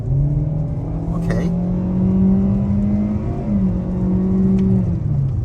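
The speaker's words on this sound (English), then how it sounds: "taking a step out here onto this multiple lane road on the gas" A 2023 Kia Seltos LX AWD accelerates onto a multi-lane road, its engine droning loudly from inside the cabin with a rising, steady tone and a brief shift dip; someone speaks a word over it.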